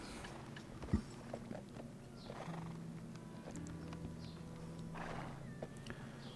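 A horse in the video game Black Desert Online whinnies over the clip-clop of its hooves, with steady game ambience and faint chimes and no talking.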